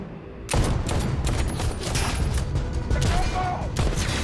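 Gunfire in an action film: loud, dense bursts of shots and booms crowd a battle scene, with narration in Indonesian running over the top.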